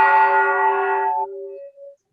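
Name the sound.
bell being rung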